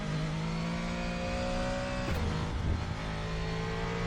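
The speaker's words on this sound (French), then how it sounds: "Le son extérieur de la voiture est très bon." Exterior engine note of a GT3 race car in the RaceRoom racing game, a loud, steady mid-pitched drone that holds through the clip, briefly dips as if shifting or lifting, then carries on with no talk.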